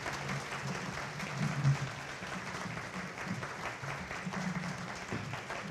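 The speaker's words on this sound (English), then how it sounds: "Let's give them a round of applause." Steady applause from a church congregation at a 200th anniversary celebration, continuous and fairly even throughout with no clear talk over it.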